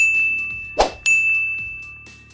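A notification bell sound effect rings out: a bright, clear ding with a metallic strike, sustained tone and a second lighter chime right after, heard alone without speech.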